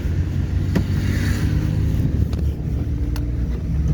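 A driving-school car in Jaipur pulls away in first gear, its engine a steady low rumble close by with faint road and wind noise and a few sharp clicks, no talk over it.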